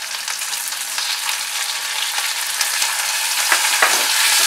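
Capsicum and bell pepper shallow-fry in a pan with a loud, bright, continuous sizzle, punctuated near the end by a few soft clicks of stirring.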